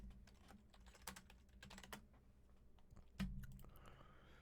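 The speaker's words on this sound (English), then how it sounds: "Yeah, I'm typing." Fingers tap on a computer keyboard, soft irregular clicks in quick bursts with a louder knock near the end, quiet and close with no speech.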